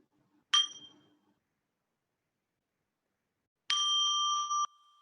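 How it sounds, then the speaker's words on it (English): A meditation bell is struck twice to close a meditation: a bright ring near the start that decays within a second, then after a long silence a second, sustained ringing tone lasting about a second before cutting off. "I'll now invite the sound of the bell to close our meditation"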